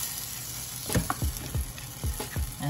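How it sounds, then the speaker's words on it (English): Plantain cup ingredients stirred in a hot pan with a pinch of salt, a bright continuous sizzle broken by several soft, regular stirring scrapes and thuds, close and without talk. "So now we're going to give this a mix."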